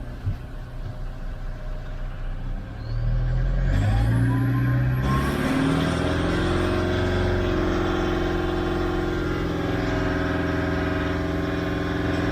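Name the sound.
Toyota Land Cruiser engine revving at 2,500 RPM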